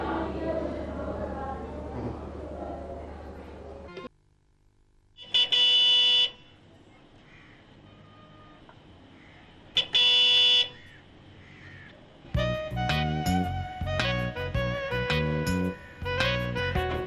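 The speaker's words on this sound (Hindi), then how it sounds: "एक तुम है ना हॉर्न पे हॉर्न बजाना शुरू कर देते हो।" A car horn blares in two long, loud blasts a few seconds apart, set within a Pakistani Urdu television drama scene, with music before and after.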